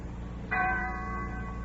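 Church bells ring out on a Sunday morning as villagers head to services, a sustained bright metallic peal that swells in suddenly and hangs, moderately loud, with no one speaking.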